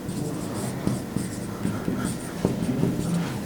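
Pen or marker writing on a board during an AC circuits lesson on RMS current: steady scratchy strokes with occasional taps, close and fairly loud, no talk.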